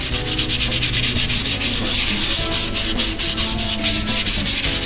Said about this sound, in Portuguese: Você lixa a caixinha.